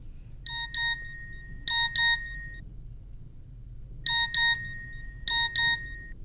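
A mobile phone chimes with a text message alert: two clusters of quick, bright electronic beeps, then a pause, then the same pattern again, clear and alone in a quiet room.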